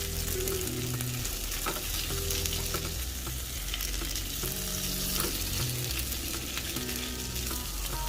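Vegetables frying in a pan over medium-low heat while they caramelize for a vegan burrito: a continuous dense sizzle and crackle with occasional stirring scrapes, close and steady, no talk.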